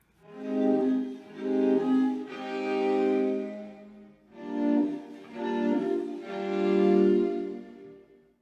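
A slurred-note sample slowed down to 60 turns woozy, its sustained harmonic tones bending and sagging in pitch across two long phrases, each made of several swelling notes, clear and alone.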